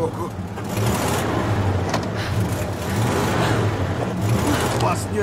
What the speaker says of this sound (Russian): Давай, Пол, жми на газ!